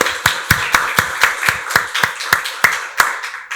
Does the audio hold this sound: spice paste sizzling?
no